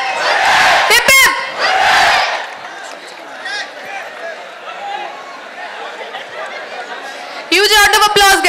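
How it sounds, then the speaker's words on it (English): A crowd at a university amphitheatre event cheers a women's hockey team, with loud bursts of shouted hoorays at the start and again at the end, separated by a softer stretch of chatter. "Three cheers for women hockey team."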